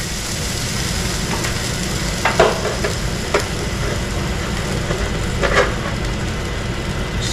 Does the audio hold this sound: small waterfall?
no